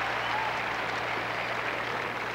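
A tennis crowd at the 1994 US Open cheers after a passing shot, a broad steady roar of applause and voices held at an even level throughout, with a faint hum beneath.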